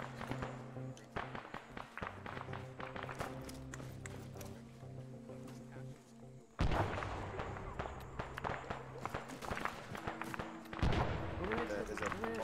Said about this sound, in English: There's a bolt action rifle shooting at us from up there.